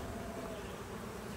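Honeybees buzz steadily at a hive during a visit to a split colony, a dense, even drone that holds constant and close throughout with no talking.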